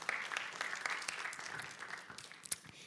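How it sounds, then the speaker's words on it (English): Audience applause for startup founders at a fintech summit in Malaysia, a dense burst of clapping that starts strong and gradually thins out over a few seconds, heard alone without talk. "Let's give the founders another round of applause."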